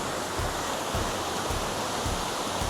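The Selama River flows at a jungle campsite with a steady, even rush of clear water, loud and continuous throughout, with no voices.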